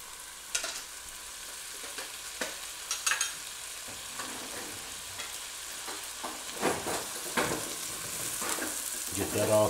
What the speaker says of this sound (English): we're gonna dump in the shallots in the butter. And we're gonna dump in the garlic